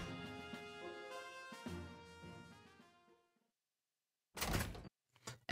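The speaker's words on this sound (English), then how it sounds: "once you've heard this door closing sound" Door closing in the video game Pokemon Legends: Arceus, heard as a short muffled sliding thud after a fading melodic tone, followed by a couple of brief clicks, with no talking over it.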